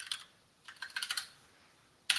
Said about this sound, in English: Keep typing in my notepad document.